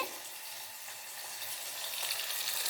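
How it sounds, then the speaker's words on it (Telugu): Ginger garlic paste fries in a pan, a steady close crackling sizzle that builds slightly toward the end. "తర్వాత అల్లం వెల్లుల్లి పేస్ట్ వేసుకుందామండి"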